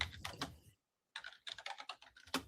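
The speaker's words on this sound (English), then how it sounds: "It's hard to type when half your keyboard's under the screen." Rapid clatter of keys on a computer keyboard, close and fairly loud, in quick uneven bursts with a short silent pause partway through.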